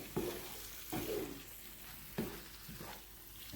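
Egg masala curry with green chillies and spring onions sizzles and bubbles in a pan, a soft steady fry broken by several stirring scrapes at irregular intervals, fairly quiet and close.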